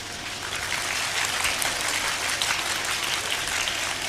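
Continuous applause from an audience at a Tamil talk on raising responsible children, a dense and even patter of many hands clapping throughout, moderately distant and without speech.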